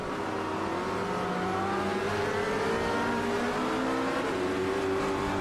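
Several racing cars at the Zolder circuit lap close together in an ISRA GTC sim race, engines droning and revving steadily throughout with rising and falling pitch, loud and continuous with no talk.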